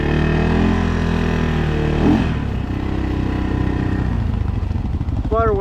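A 2025 CFmoto CForce 600 ATV with an RNG full clutch kit rides over trees, its engine droning loud and steady at close range, pitch shifting and revving midway, with a voice briefly audible near the end.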